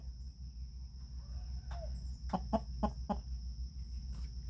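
A hen clucks near her newly hatched chicks, a short run of four or five close clucks after a brief faint call, over steady background hum and a constant high insect-like tone.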